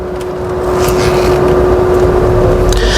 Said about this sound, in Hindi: अभी इको मोड पे खैर इंजन की काफ़ी आवाज़ तो आ रही है मेरे को